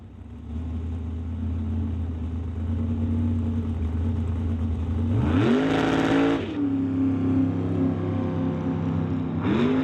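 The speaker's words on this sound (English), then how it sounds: "Brings up Dean Peterson in the super gas Mustang." Super gas Mustang drag car at a drag racing event: a low idling engine rumble builds into a loud, rising roar mid-way, drops back to a steady idle, then another short burst of revving at the end.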